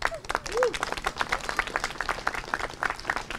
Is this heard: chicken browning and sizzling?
no